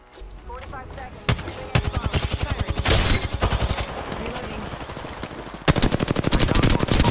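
Automatic weapon fire in Apex Legends comes in rapid, loud bursts of rhythmic shots with brief pauses between volleys, and a voice briefly under the game audio.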